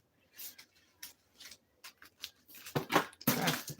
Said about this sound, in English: I gotta shuffle that again because that fell out.